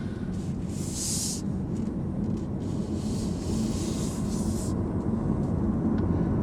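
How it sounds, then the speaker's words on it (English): Traffic on the road heard from inside a Chevrolet Volt as it pulls away, a steady broad rumble of tyre and road noise with several passing whooshes from other cars, fairly loud and continuous. "You can hear all the other cars"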